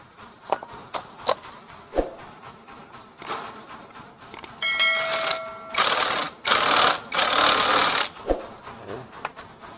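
A ring spanner works on a part of a sluggish Honda Revo FI motorcycle, giving scattered metallic clicks and clinks followed by louder bursts of rattling, scraping tool noise, close by with no talking.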